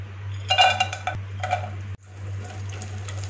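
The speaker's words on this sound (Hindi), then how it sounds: "इसको इतनी देर फ्राई करेंगे कि एक अच्छी सी खुशबू उठने लग जाए" Chopped dry fruits frying in two tablespoons of cooking oil in a pan for sheer khurma, giving soft sizzling with a few clinks and scrapes of a spoon stirring, over a steady low hum.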